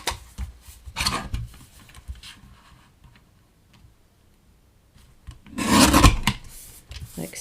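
Paper for a papercraft card kit is trimmed in two short bursts of close, dry rasping slides separated by a quiet gap, with small ticks and handling noises between them.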